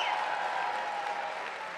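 Audience applause fills a lecture hall, a dense, steady wash of clapping at even loudness with no talk over it.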